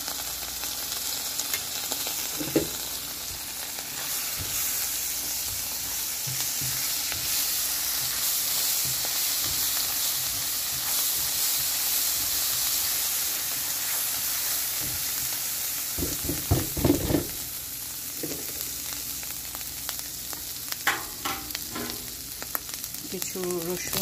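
Ginger garlic paste fries in a pan, giving a steady broadband sizzle throughout with occasional louder scrapes and stirring clatters, close and continuous, no talk.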